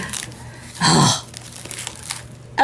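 Crinkly mixed-media journal pages give one loud, brief crunch while being flipped, set against a quiet room background.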